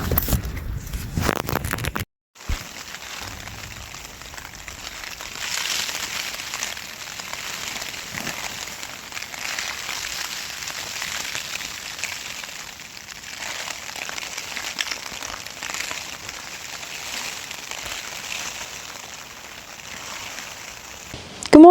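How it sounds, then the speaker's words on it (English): Rain patters steadily on a tent during a windy night on a remote Scottish hillside, a dense continuous hiss and crackle after a brief louder rustle at the start, with no talking. "Rainy, so"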